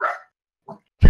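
A dog barking indoors: a few short, close barks with a gap between them, the last one loudest and deepest, with no talking over them.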